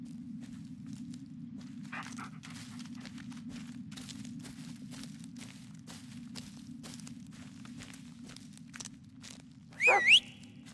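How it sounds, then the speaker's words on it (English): Dog footsteps patter steadily through a video game scene over a constant low rumbling hum, with a short sharp whistle-like burst near the end; no panting stands out clearly. "There you are. Good dog."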